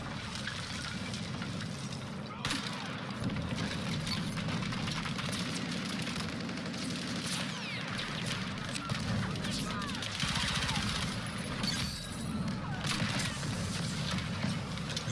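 Rapid SMG bursts from the Battlefield 6 beta game crackle at a moderate distance, overlapping with other battlefield noise in a dense, continuous clatter throughout.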